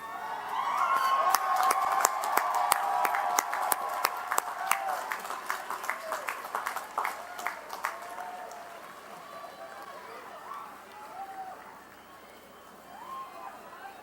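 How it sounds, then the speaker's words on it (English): An audience at a 2008 college of science commencement claps in a broad wash of applause that thins into scattered claps and fades out over the final seconds. "give them a well-deserved round of applause"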